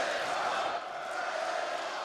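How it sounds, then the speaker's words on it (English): Steady roar of an esports arena crowd cheering during a Counter-Strike match between VP and SK at the Eleague Major, a dense, continuous wash of voices held at an even level throughout. "The crowd is loving it at the moment."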